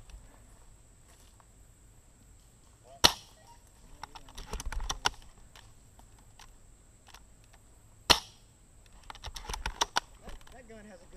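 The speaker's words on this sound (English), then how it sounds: "That gun has a good sound, Garrett." Two loud gunshots crack in a video game, each followed by a rapid flurry of lighter clicks and impacts, with talk heard between them.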